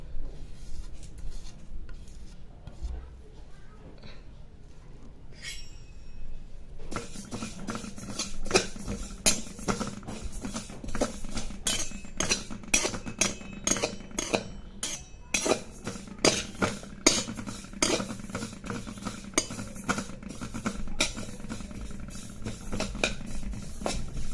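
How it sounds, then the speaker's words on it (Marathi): Sesame seeds are dry-roasted in a kadhai, and after a quiet start a spoon scrapes them around the pan in steady, repeated strokes, with dry rattling and light ticking that grows more rhythmic and pronounced. "आता याच कढाईमध्ये जे तीळ आहेत आपले ते घालून घ्यायचे आणि तीळ सुद्धा भाजून घ्यायचे"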